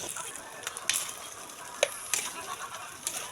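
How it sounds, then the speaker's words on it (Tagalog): Ham sizzling and frying in a pan, a steady crackling hiss with sharper pops and spatters throughout, heard up close with no talking. "I-fry lang natin yung ating mga ham."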